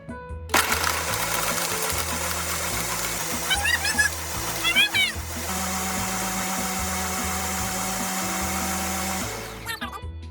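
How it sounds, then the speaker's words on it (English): Almonds blend with water into almond milk in a countertop blender, giving a loud steady motor whine with a few pitch changes and sloshing bursts, then stopping near the end. "it's gonna be perfect almond milk in a minute. You just gotta blend it."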